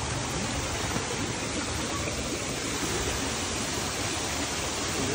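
A waterfall on a monsoon hillside trek roars as a steady, broadband rush of falling water, uniform and unbroken, heard close with no voices.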